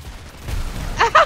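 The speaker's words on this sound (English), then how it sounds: "The cannon has spoken!" Cannon fire in the video game ROUNDS: two sharp, loud bursts close together near the end, following low rumbling and muffled game noise, with no talk over them.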